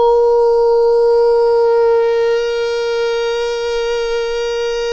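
A beatboxer imitates a police siren with lips, teeth and voice, producing a steady, buzzing tone that holds nearly level and then dips slightly in pitch. It is loud and close, with no talking.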